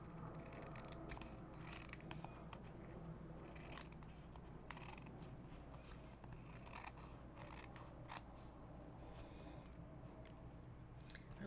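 Scissors trim paper in steady, close snips and small crisp cuts over a continuous low hum, faint and without speech.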